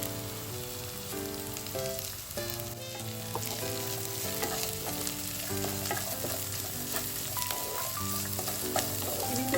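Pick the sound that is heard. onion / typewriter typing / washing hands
onion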